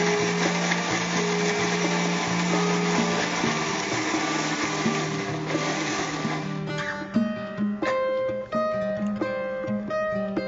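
A kitchen blender grinds soaked dates with ripe mango into a thick paste for a smoothie, a loud steady whir for about seven seconds that then breaks into choppier pulses and stops as the blades slow and restart.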